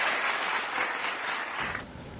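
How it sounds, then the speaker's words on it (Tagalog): An audience claps steadily and fairly loudly at a political gathering in the Philippines. The applause thins out near the end and there is no speech over it. "Palakpakan natin mga kababayan. Lahat, palakpak."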